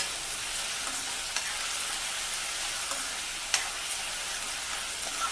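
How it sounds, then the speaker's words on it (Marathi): Chopped onion sautés lightly in a pan for a home-cooked snack filling. A steady, soft sizzle continues throughout, with occasional sharp clicks of stirring, and no one speaks. "कांदा थोडा हलकासा परतून घ्यायचा आहे खूप जास्त आपल्याला ब्राऊन नाही करायचं आहे"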